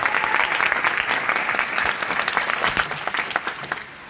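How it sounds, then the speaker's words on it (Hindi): An audience at a live training session claps together in a dense, steady round of applause that holds loud throughout and thins slightly toward the end. "केवल ताली बजाओ।"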